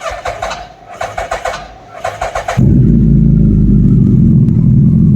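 A Suzuki Hayabusa sport motorcycle engine cranks in short rhythmic bursts, then catches and roars into a loud, steady running rumble close by.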